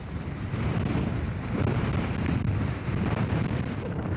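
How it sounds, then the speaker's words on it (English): Strong wind buffets the microphone on a volcanic crater rim in Iceland, in heavy, rumbling gusts, loud and constant with brief surges. "It is crazy windy."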